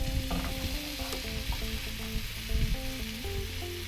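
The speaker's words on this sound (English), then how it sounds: "So what I'm gonna do now is I'm gonna add the shrimp." Shrimp hit a hot pan and sizzle steadily, with a tonal hum and clanks of utensils mixed in, moderately loud and without any talking.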